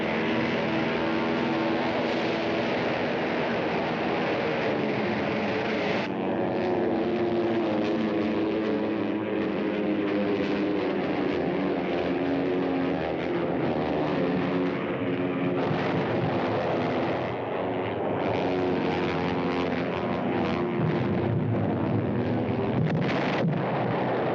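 World War II enemy warplanes droning overhead, a loud sustained engine roar with a layered tonal hum that shifts in pitch as aircraft pass, continuous and without speech.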